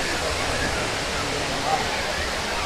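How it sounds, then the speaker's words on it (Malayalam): The Thriparappu waterfall in Kanyakumari district gives a steady, dense roar of rushing, falling water, heard close and continuous throughout. "ഇതാണ് തൃപ്പരപ്പ് വാട്ടർ ഫാൾസ് കേട്ടോ"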